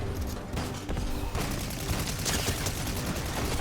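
Dense rapid gunfire rattles in a video game, a continuous close barrage of overlapping shots with a brief dip before it resumes, loud and without talk.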